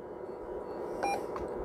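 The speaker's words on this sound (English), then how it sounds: "you take your channel changer on the mic and you hold it in. And eventually it's going to beep." A President Walker II CB radio gives a single short electronic beep after its mic channel button is held in, a faint tone rising briefly over low background hum.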